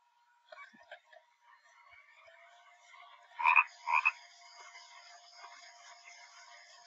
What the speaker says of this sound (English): Ew, a toad.